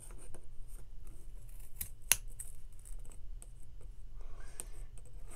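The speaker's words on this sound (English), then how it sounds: "So, we are going to cut along that ridge." Scissors snip along a ridge while making yarn ghost tassels: quiet, close cutting sounds with one sharp click partway through and soft rustling between, no talking.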